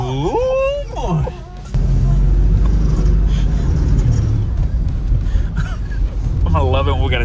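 An old project car drives around a neighborhood, its engine a loud, steady rumble with wind buffeting, while people's voices talk and exclaim over it at the start and end.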